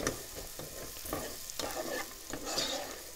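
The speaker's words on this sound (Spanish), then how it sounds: "echamos todo lo que tenemos hoy y seguimos friendo" Tortilla strips fry in oil in a pan with a steady bubbling sizzle, broken by repeated scraping stirs of a spoon at irregular intervals, close up and with no talk.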